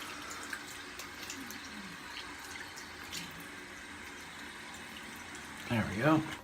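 Tap water runs and splashes softly while shaving lather is rinsed off a face at a sink, with a louder burst of splashing near the end.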